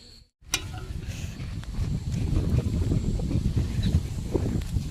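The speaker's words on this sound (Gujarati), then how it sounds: "તો ફૂલે ફૂલ વાયરો આવે છે અને વરસાદ આવે છે થોડો થોડો." Strong wind with light rain in a village rumbles in low, gusting bursts against the microphone after a brief dropout, growing steadier and heavier as it continues.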